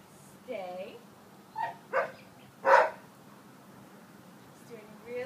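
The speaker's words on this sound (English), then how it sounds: "especially with that other dog barking" Another dog barks in the distance in a few short, sharp bursts while a trainer nearby gives a dog quiet commands during a sit, down and stay training session with distractions.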